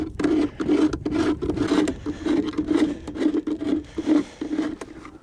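Flat, fairly large screwdriver scraping propolis off the wooden frame rests of a beehive, a steady run of close, rough rasping strokes with brief pauses between them.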